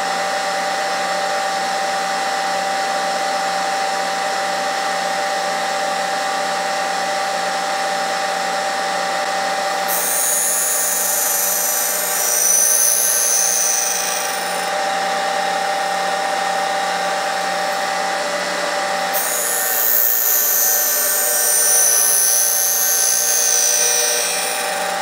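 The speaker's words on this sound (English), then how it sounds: "I'm going to put a tapered tang on this knife." A grinder shapes a tapered tang on a knife, giving a continuous high whining drone for about 25 seconds with two stretches of harsh added grinding as the steel is pressed to the belt, and no voices.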